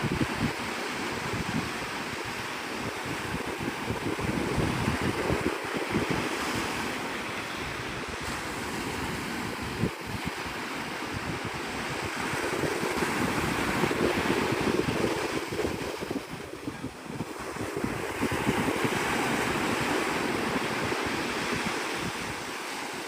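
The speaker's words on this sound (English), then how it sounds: "This is Navarre Beach, Florida." Ocean surf rolls onto Navarre Beach in the Florida panhandle near a fishing pier at sunrise, a continuous loud wash of breaking waves mixed with heavy wind buffeting the microphone, no voices.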